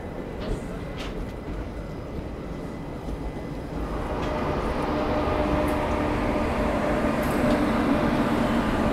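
Indian Railways Garib Rath Express rolling past, a low rumbling rail noise that grows steadily louder and heavier as the train nears, with faint clanks on top and speech partly heard.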